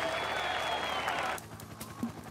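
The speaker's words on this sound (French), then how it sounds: "une foule de spectateurs qui semblent lui bloquer le passage à l'arrivée au sommet" Spectators crowd the summit finish of a Tour de France time trial on Mont Ventoux, cheering and clapping loudly before the roar drops to scattered claps and murmurs.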